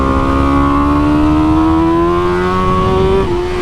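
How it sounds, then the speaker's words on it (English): A BMW M 1000 RR factory superbike engine drones loudly and steadily under engine braking, pitch rising gradually before dropping slightly near the end, recorded close up on board. "Oh, the engine braking's so weird."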